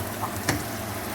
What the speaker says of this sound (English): I'll fry the onion at least for 1 minute.